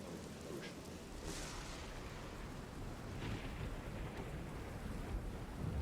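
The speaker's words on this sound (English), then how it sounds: "It's rainy." Rain and rumbling storm ambience out on the ocean, used as tabletop game background: a steady, dense wash of noise throughout with no clear breaks, at moderate level and no voices.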